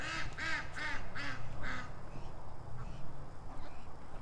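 A few ducks quack in a quick burst of repeated calls near the start, then fade into steady outdoor background noise.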